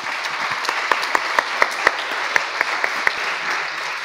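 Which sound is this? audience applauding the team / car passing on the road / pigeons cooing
audience applauding the team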